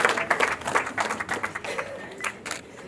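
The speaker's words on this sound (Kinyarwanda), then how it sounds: "Amashyi menshi cyane cyane." Guests at a Rwandan wedding break into applause, a dense burst of many hands clapping in uneven rhythm from a nearby crowd, with voices mixed in underneath.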